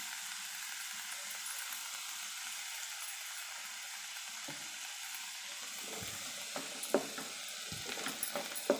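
Snake gourd pieces sautéing in hot oil with a pinch of asafoetida, giving a steady soft sizzle, with scraping and stirring clatters building toward the end.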